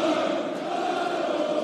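A German darts crowd at the German Darts Championship quarter-final sings together in a big hall, a sustained, distant wash of many voices.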